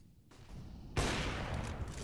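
Counter-Strike gunfire erupts in a sudden burst after a faint lead-in, a dense rattle of shots that stays loud to the end.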